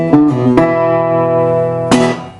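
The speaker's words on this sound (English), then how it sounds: "we're going to pluck at the same time the 2nd and 4th string." The 2nd and 4th guitar strings plucked together ring out clearly, followed by a few quick plucked notes and another strong pluck near the end.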